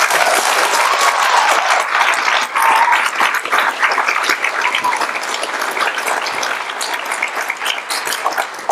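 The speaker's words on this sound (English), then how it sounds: "Let's give them a round of applause." Audience applause at a fifth grade promotion ceremony, with teachers being thanked. A large crowd claps loudly and steadily throughout, a dense and sustained roar of hands with faint whoops mixed in.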